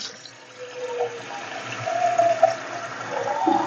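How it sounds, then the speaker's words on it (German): A splash of water pours into a pot of Czech potato soup, a soft running trickle that swells and wavers for a few seconds, close and fairly quiet. "Ich mache da einfach nochmal einen Schluck Wasser dran."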